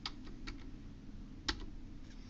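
Quiet, close keystrokes on a computer keyboard, a handful of light taps spaced irregularly over a steady low background hum.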